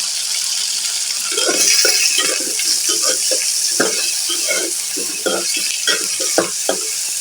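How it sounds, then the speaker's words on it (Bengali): Ginger garlic paste frying in a pan with potatoes and onions, a steady close sizzle broken by repeated scraping stirs. "এখানে আদা রসুনটা একটু ভেজে নিয়েছি"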